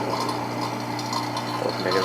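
An AC vacuum pump hums and rattles continuously while evacuating the system of an 8th-generation Honda Civic Si, a steady, close mechanical drone with a gritty ratcheting texture.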